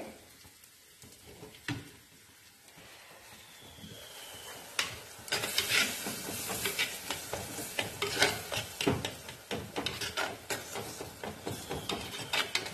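Tomatoes sizzling and bubbling in a clay pot, growing louder after a few seconds, with scraping stirs and small clatters throughout.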